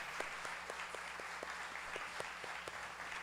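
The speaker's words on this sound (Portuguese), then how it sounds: "eu gostaria de pedir uma salva de palmas para toda essa equipe aqui" An audience at a writer's event applauds the project team, soft and distant clapping with a few sharper individual claps standing out at a steady rhythm.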